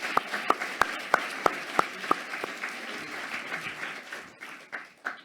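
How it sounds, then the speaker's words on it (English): Graduates at a Masters in Management commencement applaud themselves, opening with loud rhythmic unison claps that loosen into scattered, uneven clapping from the crowd, with no talk over it. "So give yourselves a big round of applause."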